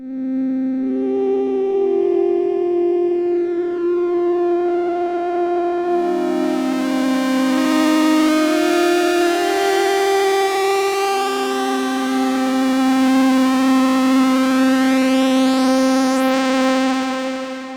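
A synth oscillator drones in sustained harmonic tones that bend and warble like broken tape or a mellotron flare. The pitch glides and wobbles, and a brighter, noisier layer swells in partway through before settling back.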